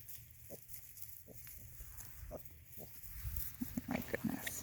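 Pigs on a farm, one of them a small dark-skinned black female, give soft, short grunts in an irregular series that grows busier toward the end, over a low background rumble.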